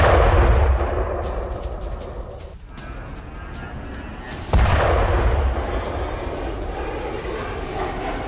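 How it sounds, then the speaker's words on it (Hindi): Rocket strike explosions from a HIMARS launcher in war news footage: a sustained loud roaring blast that dips, then a second sharp booming impact followed by a long rumbling tail, with no talk over it. "कोरे के बीच हाइमार्स का विध्वंसक हमला"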